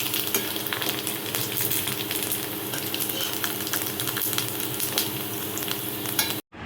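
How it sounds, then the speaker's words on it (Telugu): Rice-flour vadiyalu fry in hot oil with a constant close crackling sizzle, some light stirring clinks on top, then a sudden drop to silence at the very end. "ఇలా వైట్గా వచ్చే వరకు వడియాలు వేసుకోవాలి."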